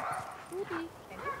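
A grey-and-white dog under pressure from a black dog during a tense greeting, giving short whines and yelps close by, with human speech continuing over the dog sounds.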